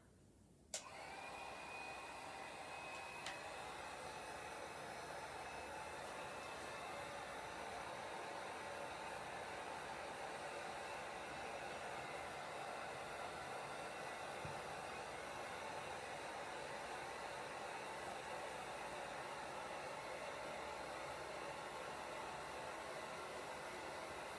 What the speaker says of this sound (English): I'm going to use my heat gun to dry this some.